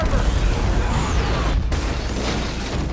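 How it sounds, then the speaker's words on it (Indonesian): A suitcase bomb detonates in a film scene, a loud, dense roar of blast and debris that fills the whole moment, with a brief dip before the rumble surges again. "koper dibuka oleh anak buah White Death dan langsung meledak."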